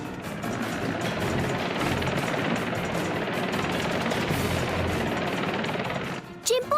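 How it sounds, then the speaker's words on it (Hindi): A cartoon helicopter drones loudly and steadily with rapid rotor chop, continuous throughout, then cuts off near the end with a brief burst of other sound. "हेलीकॉप्टर को और ऊपर की तरफ उड़ाओ।"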